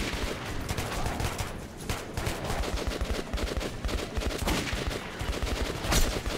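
Dense, rapid gunfire from the post-apocalyptic shooter game Metro 2033 Redux, with loud overlapping bursts like automatic weapons firing almost without pause.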